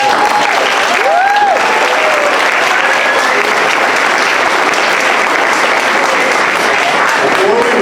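An audience at a middle school eighth-grade academic awards ceremony breaks into loud, sustained applause, a dense wash of many clapping hands with a few faint voices rising through it.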